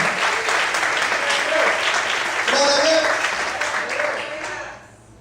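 Church congregation applauding, a full room of steady clapping with voices calling out praise over it, fading away toward the end.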